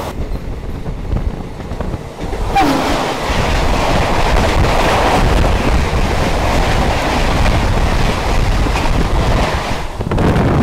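The Kanchanjungha Express, the Sealdah–Agartala train, runs through Tarapith Road, heard from on board as a loud, steady rumble with wheel clatter and wind buffeting that swells after a quieter opening and eases near the end.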